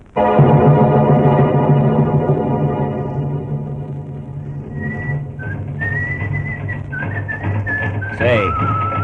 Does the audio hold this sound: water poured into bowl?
no